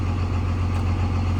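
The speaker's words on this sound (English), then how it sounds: "my AC will kick on. You hear it on the engine" A Dodge Ram 2500 engine idles with its AC compressor running, a steady low droning hum close by with no clear change or talking.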